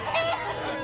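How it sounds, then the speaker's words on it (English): Cartoon chickens cluck in an animated Dinozaurs episode, a short burst of busy fowl calls with a rooster-like edge, fairly loud and close, with no talking. "Those chickens really scare those bugs away?"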